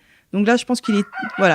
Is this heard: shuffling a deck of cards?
no